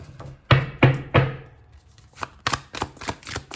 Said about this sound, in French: je suis désolée si je tape le jeu contre la table